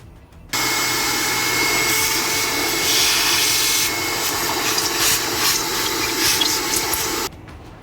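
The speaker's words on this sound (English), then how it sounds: "I'll vacuum this small debris." A vacuum cleaner sucking small debris out of a car's air filter housing before a K&N filter goes back in; a loud, steady motor roar and airflow hiss switches on abruptly, shifting pitch slightly as the nozzle moves, then stops.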